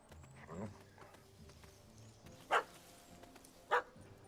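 A dog in The Witcher 3 gives two sharp, separate barks a little over a second apart, sitting over a quiet game ambience with low murmuring.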